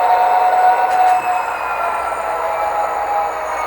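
A diesel locomotive prime mover notches up under load through a Tsunami2 sound decoder, a loud sustained engine drone with a steady tone that holds at a constant level throughout.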